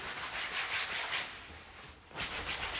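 Steady, close rubbing of a cloth or hand over the underpaint of a painting to dry it, a continuous scratchy swish with a short pause before it resumes.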